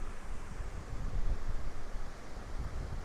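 Broad, steady rush of falling water at a waterfall in the North Pennines, heard from a bridge above the big drop; continuous and fairly loud, with some wind buffeting, no voices.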